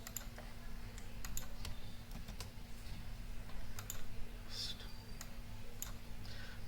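Rapid, irregular clicks of a computer keyboard as card and purchase details are typed in, steady and close under a constant low electrical hum, with no talking.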